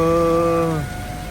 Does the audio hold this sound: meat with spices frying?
no